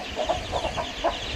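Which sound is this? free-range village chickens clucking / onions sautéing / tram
free-range village chickens clucking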